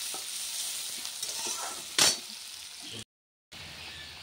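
Fish frying in a wok with salt and turmeric, heard as a moderate sizzle of oil with a short scrape or clatter of stirring partway through, then a brief total dropout before the frying resumes.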